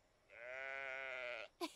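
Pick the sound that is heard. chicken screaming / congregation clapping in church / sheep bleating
sheep bleating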